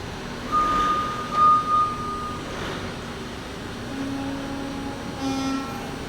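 A forklift loading a truck trailer sounds intermittent high reversing beeps over a steady engine and yard rumble, with a few soft thuds in between.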